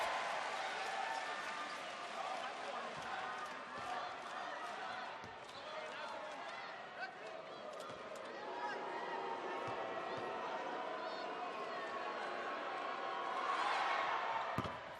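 A basketball arena crowd gives scattered cheers and claps around a foul call, a continuous murmur with intermittent applause and a few thumps, rising slightly near the end.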